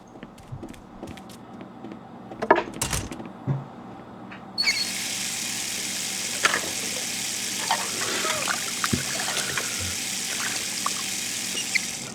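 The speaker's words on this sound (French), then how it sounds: "Une douche." A Sim takes a shower in The Sims 3: after a few faint clicks and knocks, a steady hiss of spraying water starts partway through and runs evenly to the end, moderately loud and close.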